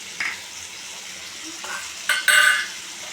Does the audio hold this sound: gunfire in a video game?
no